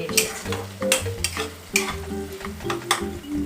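Tomato masala for a Bengali red chicken curry with potatoes sautés in oil, the spatula scraping and stirring in repeated strokes over a constant close sizzle, no talking.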